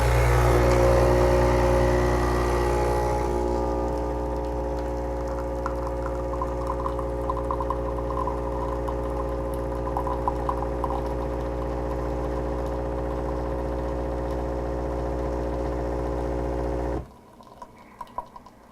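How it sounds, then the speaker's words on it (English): Nespresso CitiZ espresso machine brewing a single espresso from a pod, a loud steady pump hum with trickling liquid for about seventeen seconds, then stopping abruptly and leaving a quieter tail. "to do just a straight espresso, where we're using the single button, and we're going to toss another pod in there"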